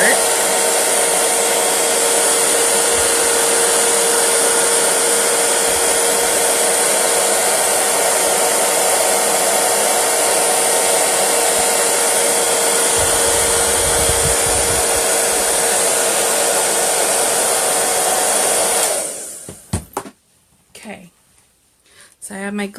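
A hair dryer blows over freshly applied chalk paste in a Chalk Couture craft project, roaring loud and steady for about nineteen seconds before cutting off as a voice begins speaking.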